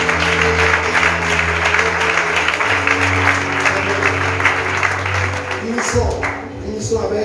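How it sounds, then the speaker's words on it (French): A church congregation applauds to acclaim God, steady loud clapping filling the space throughout, with a low voice or music underneath and fading slightly near the end. "On va acclamer Dieu."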